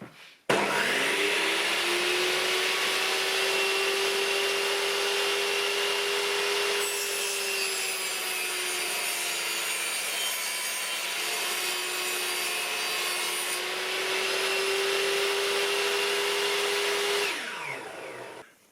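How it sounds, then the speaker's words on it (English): A power saw runs steadily for nearly the whole stretch, cutting a piece of wood into an angled bracket with 45-degree ends for repairing a broken wooden table leg. The motor holds a constant whine, close and loud, then winds down at the end. "So let's get this bit of wood chopped up, angled, and ready to fix on here."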